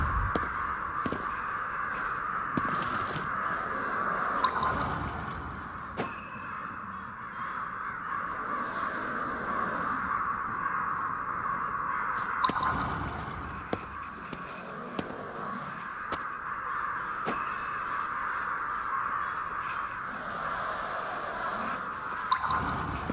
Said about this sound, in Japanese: カラスが騒いでるぜ。